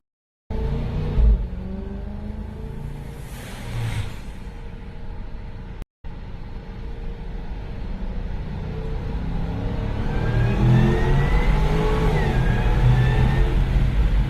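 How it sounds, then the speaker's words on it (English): Range Rover accelerating on a road, a low engine rumble that climbs steadily in pitch and loudness as it gains speed, with a brief dropout midway. "My God, that car is like, that Range Rover is so fast."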